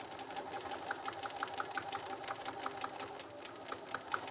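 A sewing machine back stitches a quarter-inch seam on a simple fabric purse, a steady close whirring with rapid regular needle ticks running throughout, alone with no voices.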